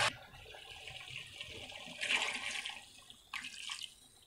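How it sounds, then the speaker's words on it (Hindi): Water pours into a pot of aloo gobi on the stove, a soft trickling splash with two louder gushes partway through, faint and alone without talk. "थोड़ा सा इसमें हम पानी डालेंगे,"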